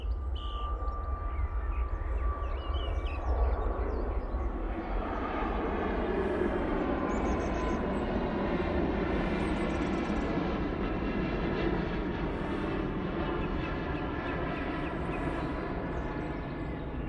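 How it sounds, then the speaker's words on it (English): A TUI Boeing 737 MAX 8 jet departs for Oslo with a steady, rising roar that swells as it passes, then slowly fades, heard from a distance across an airport. "As I said, that's off to Oslo using that 737 MAX 8."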